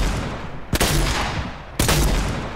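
Heavy shotgun in Fortnite creative mode fires two loud, sharp blasts about a second apart over a dense, constant game background roar.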